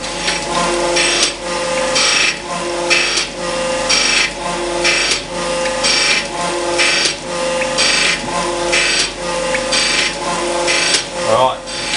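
A surface grinder works a steel collet block to square it, a loud rhythmic grinding rasp that swells and fades in repeated passes as the table feeds back and forth.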